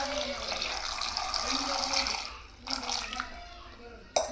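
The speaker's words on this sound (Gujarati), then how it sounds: "હવે આપણે તેમાં પાણી એડ કરી દઈશું" Water is poured into a pot of small potatoes for bhungala bateta, giving a close, continuous splashing stream that falters and restarts near the end.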